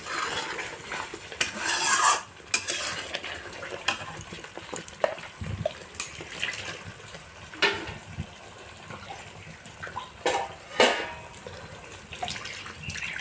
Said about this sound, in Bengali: এবার আমি ঝোলটা দিয়ে দেবো এর মধ্যে